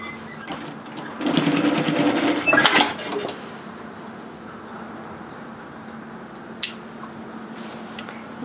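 A sewing machine runs a short burst of tack stitches on a pleated top, a rapid mechanical whirr lasting about two seconds, then stops, leaving a quiet room with a faint hum and a single click.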